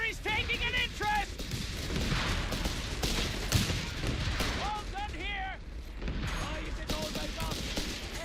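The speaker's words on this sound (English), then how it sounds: "I'm going to immediately open up with my mortar" Mortar and gunfire in the Company of Heroes 3 Final Stand battle, dull booming blasts and rattling shots piling up in a dense war-game mix, with a voice commentating over the din.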